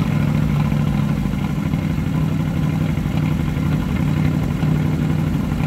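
A 1940 Ford Deluxe Coupe engine runs loud and close with a steady, throbbing idle and slight clatter, held evenly throughout without talk.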